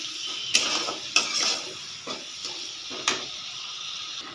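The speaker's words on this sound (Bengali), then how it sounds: "সব দিয়ে সুন্দর করে কষিয়ে নিচ্ছি।" Spices such as turmeric, salt, cumin and chilli being stir-fried in a pan for a Bengali dish, a steady sizzle under repeated sharp scrapes and clinks of a spatula against the metal.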